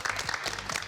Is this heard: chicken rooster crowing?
no